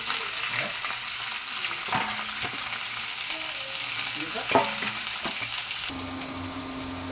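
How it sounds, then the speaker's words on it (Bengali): Flat beans (sim) fry in a pan with a continuous, moderate sizzle, broken now and then by the scrape and clatter of stirring. "ওদিকে সিম ভাজাটা হচ্ছে"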